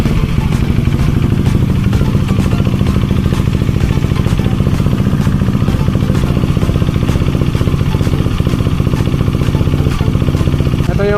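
A KTM Duke 390 motorcycle engine running at a steady idle after starting, a loud continuous mechanical drone with rhythmic clatter throughout, recorded close up during radiator fan and coolant work.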